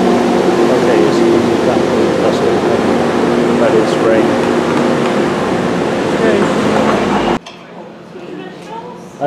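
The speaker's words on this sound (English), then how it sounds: "Mind you, aircon in here." A steady, loud mechanical hum of air conditioning fills the space, broken by faint clinks, then cuts abruptly to near quiet.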